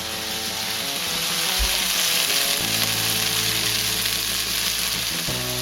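Oyster sauce hitting a hot pan of spicy sausage stir-fry, a loud continuous sizzle and frying hiss with some stirring, close up and without talk.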